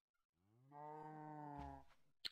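A cow in a video game lets out a single drawn-out moo, tonal and steady for over a second, followed by a brief sharp click at the end.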